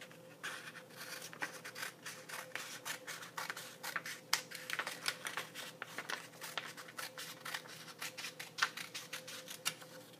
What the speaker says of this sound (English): I'm gonna use my scissors, and I'm gonna cut right along this line.